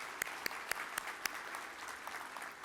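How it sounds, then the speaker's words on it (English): Brief applause at a chamber of commerce annual dinner and awards ceremony, light and fairly sparse, with a handful of sharper claps standing out over a soft steady patter. "All of y'all give yourself a big round of applause"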